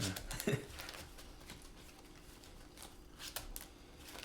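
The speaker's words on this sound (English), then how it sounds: "I will shuffle this" A deck of playing cards is shuffled at a table during a Duel Commander card game, with a short riffle burst near the start and soft, faint card handling continuing quietly through the rest.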